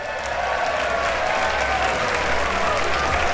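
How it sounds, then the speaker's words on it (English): An audience in a chamber bursts into applause, dense sustained clapping from many hands filling the room at even loudness, a broad wash with no single claps standing out. "The chamber burst into applause."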